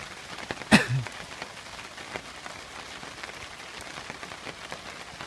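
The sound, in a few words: rain falling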